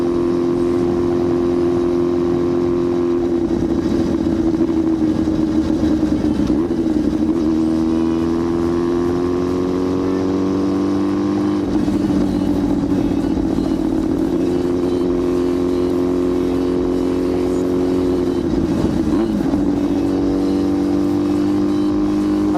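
A Yamaha R6 motorcycle, loud and aftermarket-sounding, heard close while riding, with a steady, high engine drone that rises through the gears and drops on each shift, without any talking.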